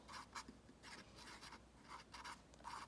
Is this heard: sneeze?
no